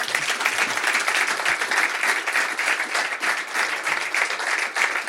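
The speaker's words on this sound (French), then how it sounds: "on va vous applaudir, un grand merci." A studio audience gives steady, dense applause for three guests at the close of a sailing talk show, the clapping continuous and fairly close throughout.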